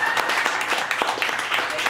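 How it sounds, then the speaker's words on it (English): Audience applause at an outlaw open mic contest, a steady patter of hands clapping from a small crowd for about two seconds, fairly close and even in loudness. "I want everybody to go ahead and give him a round of applause."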